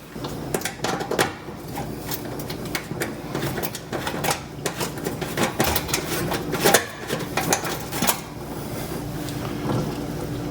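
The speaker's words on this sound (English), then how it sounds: "One little screw, it's a 1/4 inch nut driver." Screws being removed from an oven temperature sensor with a 1/4 inch nut driver: close, irregular metallic clicks, taps and scrapes of the tool and screws, with handling noise between them.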